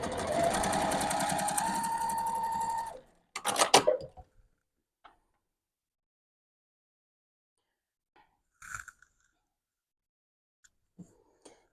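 A sewing machine runs in one fast continuous burst while stitching quilt pieces, then a few brief handling clatters and taps follow before falling quiet.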